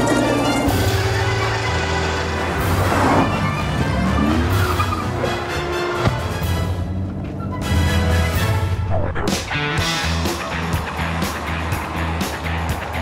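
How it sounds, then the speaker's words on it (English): An ambulance slides and drives along a road, with engine revving, tyre scrubbing and clattering bumps in a loud, busy jumble that swells and drops over several seconds. "Sliding in an ambulance."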